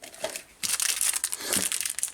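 A plastic bag of parts from a Tamiya Wild One RC kit crinkles loudly and close by, a short quiet rustle followed by a sustained burst of crackling handling.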